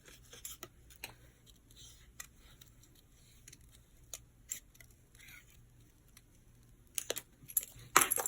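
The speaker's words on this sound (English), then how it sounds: "I am not a pro at fuzzy cutting, but it works. And I'm trying my best not to move my scissors," Scissors fuzzy cutting paper for a handmade daisy card, a series of quiet, crisp snips at an uneven pace, getting louder and busier near the end, with no talking.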